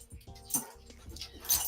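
Dogs indoors give short whimpering and yelping sounds in a quiet house, with faint clinks like jangling tags or keys between the brief cries.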